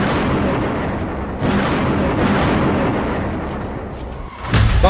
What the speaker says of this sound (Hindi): बमबारी शुरू हो चुकी है।